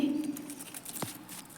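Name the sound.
bird at window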